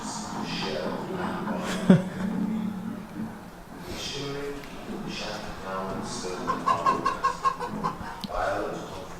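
Chickens cluck and squawk intermittently in the background while people talk over them, with a burst of quick clucks near the end.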